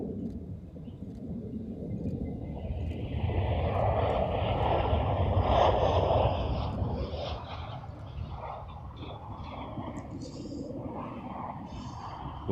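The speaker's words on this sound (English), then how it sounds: "There we go, the flight from Munich." A Lufthansa airliner arriving from Munich at Amsterdam Schiphol airport, its broad engine roar steady and fairly loud throughout, swelling slightly in the middle as it passes, with no speech over it.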